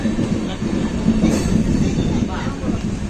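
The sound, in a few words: passenger train departing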